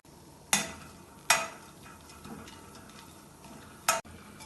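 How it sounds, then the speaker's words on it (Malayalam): Whole spices, three cardamom pods, three cloves and two small pieces of cinnamon, fry in hot oil, giving a faint sizzle broken by three sharp, loud pops or clacks. "എണ്ണ ചൂടാവുമ്പോൾ ഇതിലേക്ക് ഒരു 3 ഏലക്കയും 3 ഗ്രാമ്പും 2 ചെറിയ കഷ്ണം കറുവപ്പട്ടയും ഇട്ട് ഫ്രൈ ചെയ്യാം."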